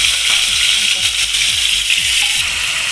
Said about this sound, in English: So I just fry it a minute or so, just till they're a little pink in color.